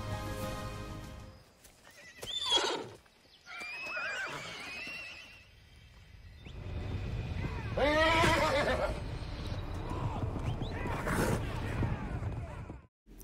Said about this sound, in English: the amount of neighing is just too huge